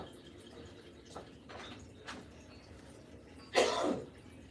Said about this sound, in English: Let me get this cough